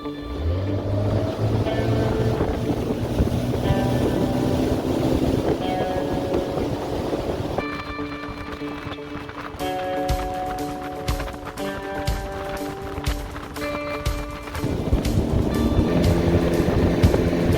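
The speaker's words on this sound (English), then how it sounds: "How fast does a Lund SSV-18 with a 60 horse go?" A Lund SSV-18 aluminum boat with a 60 hp outboard runs at full throttle, a steady loud engine drone with shifting tonal whine and water rush throughout, pitch stepping as the motor holds speed.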